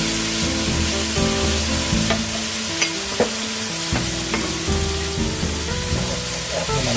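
Paella Valenciana ingredients without shellfish sizzle loudly in a pan after wine is poured in, with continuous frying hiss and repeated scraping stir strokes against the pan bottom, close and alone without talk.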